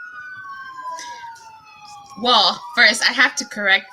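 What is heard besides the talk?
police sirens in the background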